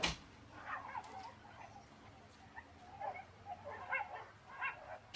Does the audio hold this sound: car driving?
no